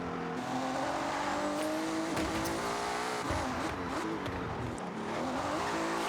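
A meta-build car in Forza Horizon drives hard with a steady engine drone and squealing tires, loud and continuous throughout.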